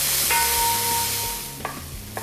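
Tomato slices with coriander and mint leaves being stirred in a pan for a mutton biryani masala: a soft sizzle runs underneath, broken by a few scraping stir clicks and a steady faint tone.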